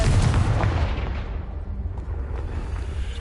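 Confringo explosion spell going off in Hogwarts Legacy, a loud booming blast that rolls on as a deep rumble with crackling debris for about three seconds.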